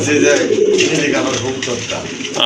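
Black Bombay pigeons at a bird market give low, throaty cooing close by, partly mixed with someone talking over them and a busy background hum.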